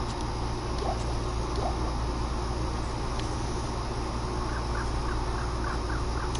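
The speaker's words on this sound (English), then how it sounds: "That bird sound gets me." Nighttime bird ambience in the video game Diablo 2 Resurrected: several faint, short caws repeat at irregular intervals over a loud, dense, constant background wash, distant and with no talk.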